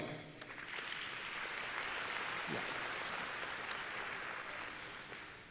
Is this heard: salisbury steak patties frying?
no